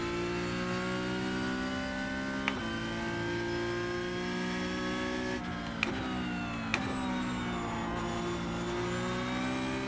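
Car engine in a sim racing game played with Logitech G PRO load cell pedals, a steady layered engine drone held at high revs with a few sharp clicks and slight pitch shifts.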